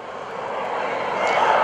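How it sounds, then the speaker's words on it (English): FLS Microjet, a small single-seat jet, making a knife-edge pass at about 170 knots at Greenwood Lake Airshow in 2015, its engine whine growing steadily louder as it approaches. "From the left, here comes Shmed with the FLS Microjet."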